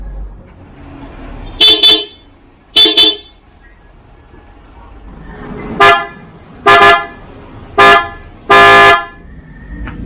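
A PIAA Superior Bass car horn honks several times, deep and full-bodied, in short and longer blasts over a low background rumble.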